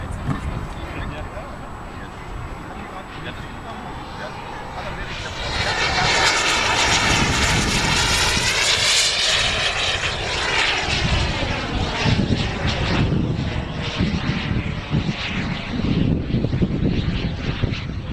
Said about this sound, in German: Ein Flugzeug, angeflogen mit einer Strahlturbine und wie Sie sehen mit einem Smoker zur Rauchererzeugung ausgestattet.